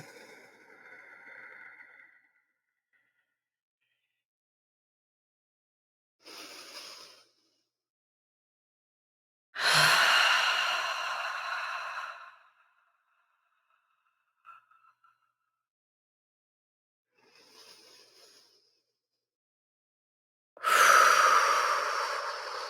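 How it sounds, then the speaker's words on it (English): During a guided meditation, deep breaths are drawn in, heard as long, close, airy inhalations and sighs separated by silence, with a few softer breaths between them. "We're going to breathe that in."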